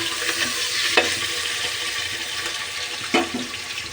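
Onions frying in a pan with oil for vegetable pulao, a steady close sizzle with two brief louder stirring clatters.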